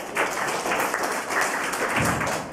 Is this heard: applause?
yes